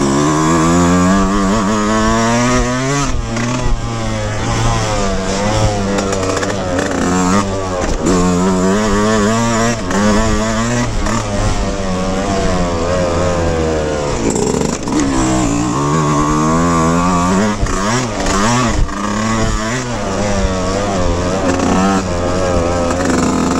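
A 2024 Yamaha YZ125X two-stroke dirt bike ridden at a High Desert motocross practice track, its engine loud and continuous, revving up and down through gear changes and throttle blips for the whole stretch.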